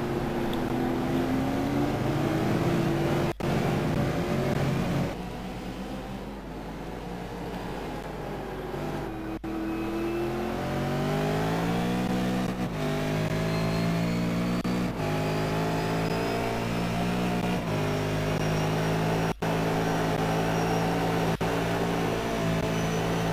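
V8 Supercars race cars screaming around Phillip Island circuit, loud engines revving and changing pitch as they pass close, with gear shifts and sustained high-revving drones throughout.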